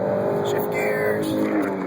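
A turbocharged Chevy HHR SS engine revs steadily under acceleration, a close, continuous drone inside the car with a gear change partway through, while a voice talks over it.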